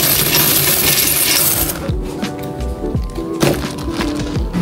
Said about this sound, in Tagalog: May mga coins pa.